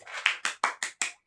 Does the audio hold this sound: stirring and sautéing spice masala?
no